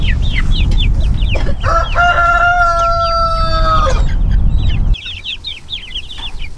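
Chickens clucking and a rooster crowing, with a sustained harmonic crow in the middle, as birds are moved into a chicken tractor; continuous farmyard noise throughout, close and fairly loud.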